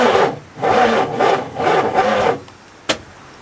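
A 1985 Oldsmobile Cutlass engine cranks slowly without catching, four sluggish grinding bursts of the starter turning the engine over, then quiet and a single sharp click near the end.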